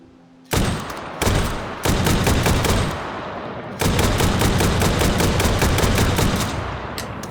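Gunfire in H3VR rings out loud and close, opening with a few separate heavy shots and then settling into a rapid automatic burst that keeps hammering for several seconds, with no voices.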